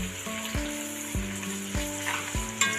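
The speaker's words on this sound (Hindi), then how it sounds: "तो प्याज को हम फ्राई कर लेंगे।" Onions fry in hot oil for chana pulao with a steady sizzle, punctuated by four evenly spaced low thumps of stirring and a brief metallic clink near the end.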